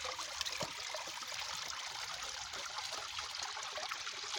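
Water trickles from a pipe in a small homemade cascade, making a steady, faint, continuous splashing and babbling without pause or voices.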